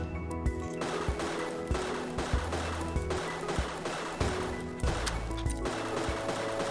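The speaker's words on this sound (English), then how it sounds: "we use our spare clip and we can keep shooting" Gunshots from the Orion's Throne game ring out in a steady series of sharp, evenly spaced reports over a low music bed, about a dozen shots in under seven seconds.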